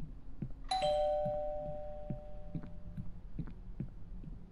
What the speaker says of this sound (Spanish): Timbre.